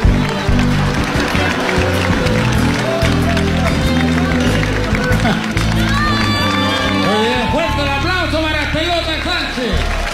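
Crowd applauding and cheering as a costumed mascot for a plastics company enters at a televised charity telethon, a dense, loud, steady roar of clapping and shouts, with voices calling out over it toward the end.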